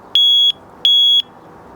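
Nitecore NWE10 electronic whistle sounding its SOS pattern: two pairs of loud, piercing, high electronic beeps, each pair a short and a longer-spaced tone, clear and close against quiet background.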